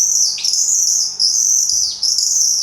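Wooden bird whistle weighted with lead imitating birdsong, a loud, close, piercing high warble of sliding chirps and trills in repeated phrases, played alone with no voices.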